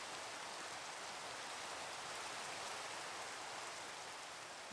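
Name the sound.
rain falling in the video game Minecraft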